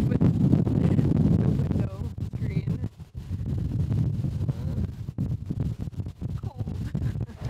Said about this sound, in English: The wind is just getting going and will do nothing but build as the day continues.